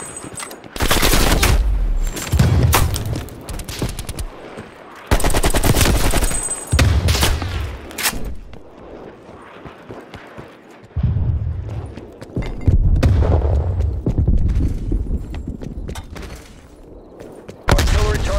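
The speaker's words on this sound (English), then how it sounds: "Artillery inbound" Artillery strike in the Call of Duty: Black Ops Cold War multiplayer game: loud bursts of heavy impacts and rolling gunfire come in repeated waves, with a voice speaking between them.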